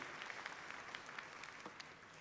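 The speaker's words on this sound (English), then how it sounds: "So again, with a round of applause, let us recognize their contributions, whether financially, emotionally, or spiritually." Sustained applause from a commencement ceremony audience at SUNY Westchester Community College, a steady dense patter of many hands heard from a distance and fairly faint throughout.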